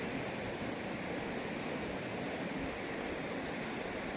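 A river in Marwan Valley, Jammu and Kashmir, rushes as a steady broadband roar of flowing water. The wash is constant and unbroken, with no voices.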